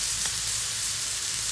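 Stuffed pork chops sizzle on a grill over an applewood fire, a steady close hiss and crackle of fat frying with no voices.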